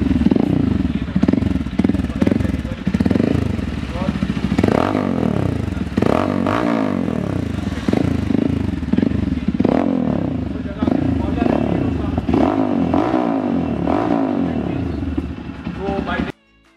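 A Super Power Sultan 250 motorcycle engine is revved repeatedly in rising and falling bursts close by, with someone talking over the revs throughout.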